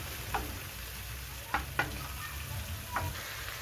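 Butter melts with a quiet, steady sizzle in a pan for menemen with minced meat and kaşar cheese, broken by a few sharp clinks of a utensil against the pan; no one speaks.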